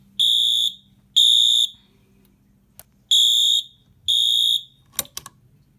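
A homemade fire alarm panel sounds after its pull station is activated, giving four loud, shrill electronic alarm pulses in a regular pattern, then a few faint clicks as it goes quiet.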